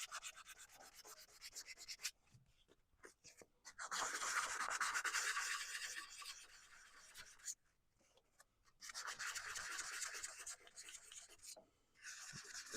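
Abrasive sanding on a spinning woodturning piece, loaded with CA glue and sawdust, in rhythmic bursts of close rubbing and rasping separated by brief pauses.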